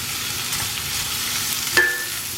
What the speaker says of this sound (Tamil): இது இந்த வதங்கிட்டு இருக்கும்போதே இதில் இந்த கேப்சிகமும் கேரட்டும் ஆட் பண்ணிக்கிறேன்.